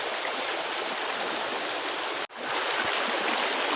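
A flowing forest stream rushes steadily and close by, a dense continuous wash of water with a brief dropout midway, while someone walks upstream fishing and gathering fiddlehead ferns.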